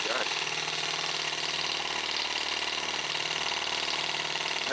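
A tiny Eachine M18 microcosm model engine with a working water pump runs steadily, producing a continuous, buzzy mechanical drone with a fast, even beat, close and unbroken throughout.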